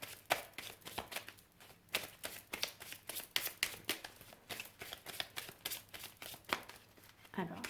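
Children's playing cards being shuffled by hand in a quick, uneven run of crisp riffling and flapping bursts, close and fairly clear, with a faint background hum.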